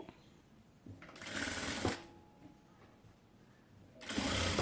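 An electric sewing machine stitches a designer sleeve in two loud, fast whirring bursts close by, separated by a quieter pause with faint handling of fabric.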